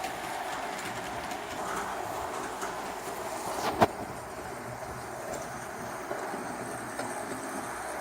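A Hornby model train pulls modified Pullman coaches across the layout's points, giving a steady, quiet rolling rumble with one sharp click partway through and a few fainter ticks after it.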